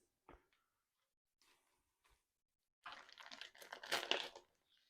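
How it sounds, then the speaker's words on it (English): Half a pack of bacon is handled, giving faint scattered crinkles of plastic packaging followed by a louder, close burst of crumpling and rustling. "I'm going to take half of a pack of bacon."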